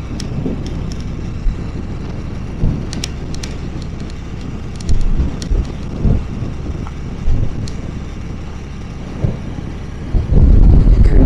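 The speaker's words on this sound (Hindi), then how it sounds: "हवा के झोंके आना शुरू हो गए।" Gusts of wind buffet a motorbike rider on a mountain road climbing toward Babusar Top. Low rumbling bursts come and go over a constant roar, with the strongest blast near the end.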